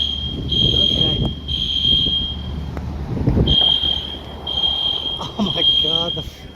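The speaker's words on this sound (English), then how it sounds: "Oh my God, the fire alarm's going off." Smoke alarm beeping in a historic Charleston building during an HVAC smoke test, a loud shrill repeating tone in long pulses, with people talking nearby.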